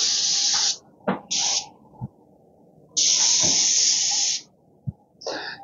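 Loud hissing bursts of a Graco 695 airless paint sprayer spraying eggshell finish on doors, several spray passes starting and stopping, with brief clicks and quiet gaps between them.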